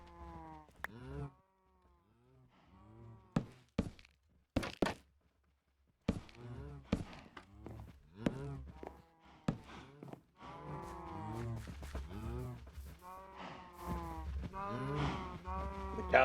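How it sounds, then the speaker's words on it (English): Cattle lowing in a video game, several drawn-out moos heard intermittently, with a person talking over parts of it and brief sharp game sounds in between. "The cows definitely need to move."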